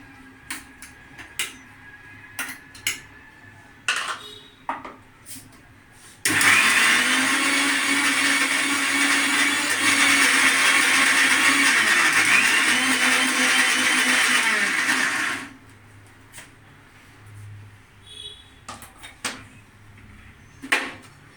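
A mixer grinder blends taro (kochu) with a little water into a paste, a loud steady whir running for about nine seconds between quieter handling knocks and clatter.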